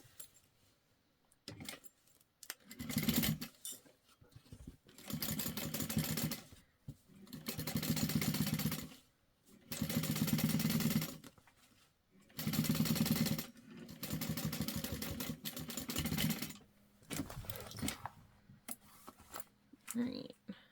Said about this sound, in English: we're gonna top stitch that, leaving the lining out